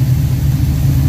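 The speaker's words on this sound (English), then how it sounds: "Idle's about" A warmed-up Pontiac 455 V8 with 6X heads idles at about 1100 rpm, running on pump gas. It gives a loud, close, steady low rumble with a faintly uneven lope and no talk.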